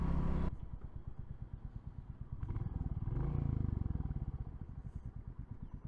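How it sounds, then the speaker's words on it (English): A Royal Enfield Classic 350 motorcycle's exhaust thumps at low pitch in a steady, even pulse, rising briefly as the throttle opens and then settling back to a loping idle. "That exhaust note. It's actually really pretty."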